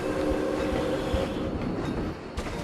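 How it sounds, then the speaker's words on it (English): A train rolls past in the Planet Coaster theme-park video game, giving a steady, loud rumble with a rattling clatter that continues throughout. "Oh, a train!"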